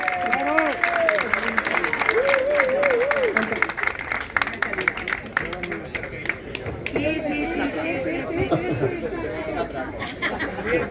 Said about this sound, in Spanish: un aplauso para Miguel Ángel